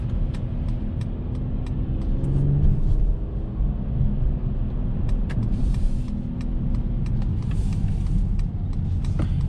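Inside a 2021 Mercedes-Benz E450 All Terrain wagon on the move, a steady low road and engine rumble fills the cabin, with faint tyre hiss, occasional small ticks and no voices.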